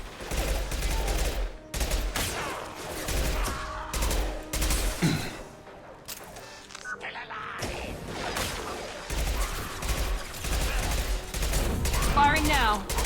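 Gunfire in the video game Mass Effect 2: rapid bursts of automatic weapon fire and single shots, loud and close, with a brief lull midway before the shooting resumes, and game voices heard at times.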